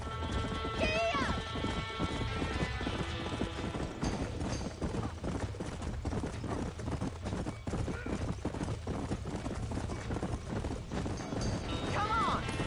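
A horse gallops in the Red Dead Redemption video game, near hoofbeats clip-clopping steadily throughout, with brief whinnies and voices over a crackling backdrop.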